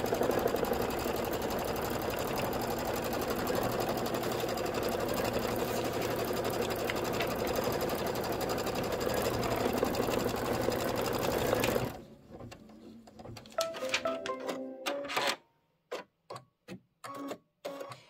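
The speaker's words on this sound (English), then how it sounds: "Just go ahead and hit start and it is going to do the quilting stitching" A computerized embroidery machine runs steady quilting stitches on a Kimberbell pet pouch project, a loud continuous rapid whir for about twelve seconds before stopping, followed by scattered clicks and short bursts of handling noise.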